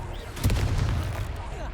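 The Confringo blasting spell goes off in Hogwarts Legacy as a loud, booming burst with a brief rumbling decay over steady game background noise.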